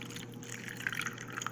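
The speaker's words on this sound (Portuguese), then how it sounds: "Eu vou colocar a água nesses dois potinhos." Water poured into two small pots makes soft trickling and dripping splashes, quiet and close, with a few brighter plinks as the liquid lands.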